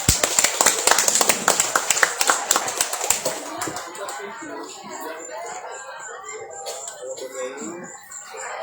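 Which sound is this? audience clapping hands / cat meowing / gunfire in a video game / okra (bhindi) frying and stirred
audience clapping hands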